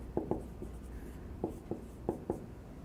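Marker strokes drawing a diagram of a supporting cell on a board during a lecture on vestibular hair cells, a few faint squeaky taps in irregular pairs under a quiet room hum, no talking.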